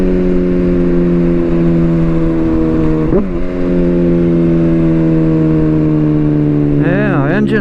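A car engine brakes on the road, a loud steady hum with flat harmonic tones and a brief wobble partway, then a rising, wavering pitch near the end, with no voices.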